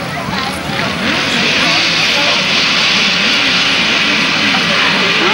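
Grasstrack sidecar engines rev loudly together at a race start, a dense, continuous buzzing roar that holds steady throughout, with a commentator speaking over it.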